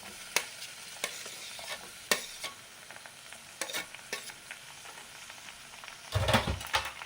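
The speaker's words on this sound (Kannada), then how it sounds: "ನೋಡಿ, ಈರುಳ್ಳಿ ಸ್ವಲ್ಪ ಫ್ರೈ ಆಗಿದೆ." Onions and green chillies fry in a hot pan, with a steady low sizzle and several sharp clicks and scrapes of stirring, and a louder burst of sizzling and clatter near the end. Nobody speaks.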